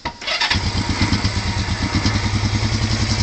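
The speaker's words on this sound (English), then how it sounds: "Motor's nice and quiet on it." Cold motorcycle engine cranking briefly, then catching and settling into a steady, even idle with a rapid low putter, close up and heard alone.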